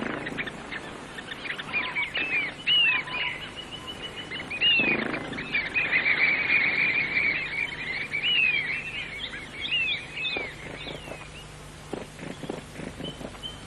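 Long-tailed finches in Australian grassland give repeated short, high, rising calls, some close and some farther off, over soft rustling and low background sounds.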